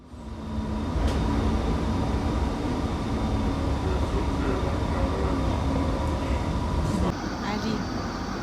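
A metro train runs at an Istanbul metro station, a loud, steady rumbling roar with a faint high whine that holds for several seconds, then drops slightly near the end.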